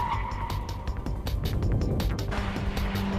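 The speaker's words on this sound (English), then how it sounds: "And now, the full braking test from about 95 miles per hour." A Honda Type R brakes hard from about 95 mph on a test track, with a loud engine and road roar that drops into a scrubbing tire noise. A steady low tone continues toward the end.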